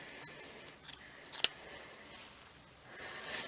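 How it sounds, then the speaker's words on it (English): Scissors snip through fabric and bubble wrap during a sewing project, a few quick close cuts with one sharp louder snip, over a quiet room with no talk. "I think my scissors are ready for sharpening"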